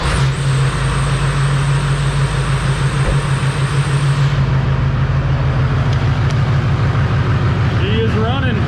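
A Duramax diesel pickup engine with a newly installed turbo idles steadily with a low, rumbling drone throughout, and a high whine fades out partway through.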